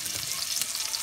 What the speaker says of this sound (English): Alright, start throwing onion in there.